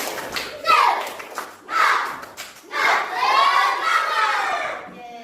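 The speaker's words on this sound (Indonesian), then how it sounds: "Tepuk semangat." A class of schoolchildren performs a spirit clap, chanting loudly together in short rhythmic bursts punctuated by claps and thumps, close and energetic with a crowd-like ring.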